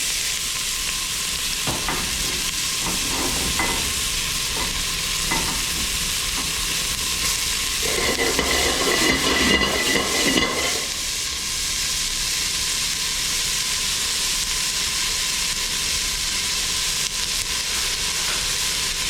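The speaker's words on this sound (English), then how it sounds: "I'm going to put my oil in the pan. And as always, I'm going to start with my onion." Chopped onion sizzles in hot oil in a pan, a steady loud frying hiss throughout with occasional stirring clatter and a brief louder sputter in the middle.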